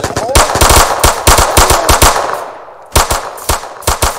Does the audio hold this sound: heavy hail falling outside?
no